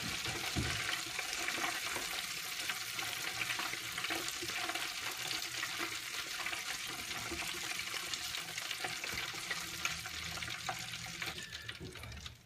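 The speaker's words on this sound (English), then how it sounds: "So we're just frying it nice." Battered chicken fries in hot oil in a Kentucky home kitchen, a steady loud sizzle and crackle filling the whole stretch without pause, with a faint voice now and then.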